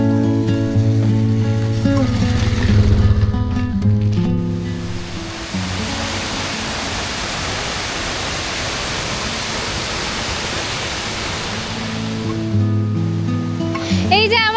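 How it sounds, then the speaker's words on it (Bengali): The Relling river flowing in the hills near Darjeeling, a broad steady rush of water filling the middle stretch, with talk and background noise at the start and end. "এই যে আমার সামনে দিয়ে বয়ে যাচ্ছে রেলিং নদী"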